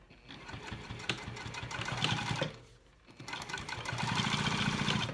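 Sewing machine running steadily up close, stitching cork fabric and lining together for a convertible clutch, with a rapid rhythmic whir that briefly pauses midway before resuming.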